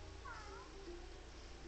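A cartoon cat in the Catz video game gives short, faint meows over a constant electronic game hum, with no voices.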